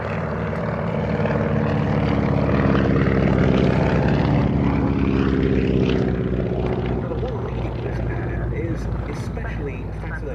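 A Beechcraft Model 17 Staggerwing biplane built for the US Army Air Forces roars with a loud, continuous propeller drone as it moves past, the pitch sliding midway, with commentary spoken over the engine.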